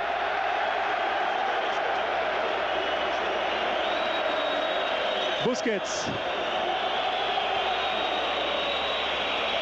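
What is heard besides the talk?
football stadium crowd at Real Madrid vs Barcelona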